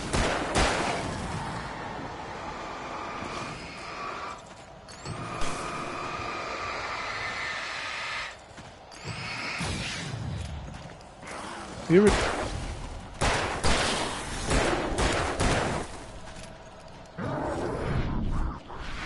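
Gunshots in the horror game Alan Wake: repeated loud sharp cracks scattered through a long, busy stretch of rumbling ambience and effects, with some voice-like sounds mixed in.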